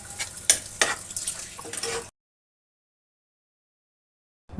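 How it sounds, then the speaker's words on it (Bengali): Spice masala with sour yogurt being sautéed and stirred in a pan for a pumpkin flower curry, with a few scraping spoon strokes and a soft sizzle for about two seconds before the sound cuts to silence. "মশলাটা কষিয়ে নেব।"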